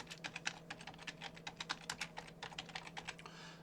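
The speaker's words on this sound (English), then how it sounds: "Inside the paragraph, let's type whatever you want to display" Rapid typing on a computer keyboard, a steady run of close, crisp key clicks with an uneven rhythm and a faint electrical hum underneath.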